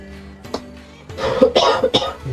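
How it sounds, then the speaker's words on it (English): A person coughs several times in quick succession, close and fairly loud, with a short pause before the harsh bursts. "My friend has a cough."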